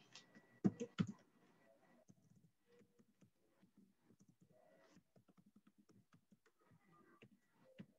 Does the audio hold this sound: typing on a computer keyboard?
yes